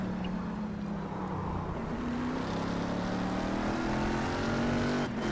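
Race car engine in iRacing at Motegi, held at a steady drone with harmonic whine through braking and downshifting, then a sharp burst at the end, loud and close with no talk.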